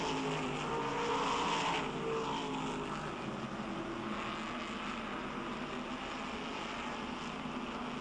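Race cars in a Maine short-track event at Oxford Plains roar steadily at a distance, a continuous blended engine drone that swells slightly early on and holds through to the end with no talking.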